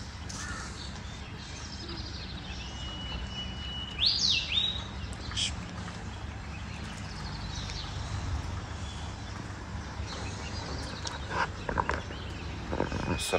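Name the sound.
birds chirping in the early morning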